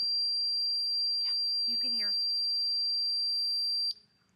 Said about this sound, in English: I want you to hear it's a 100 decibel alarm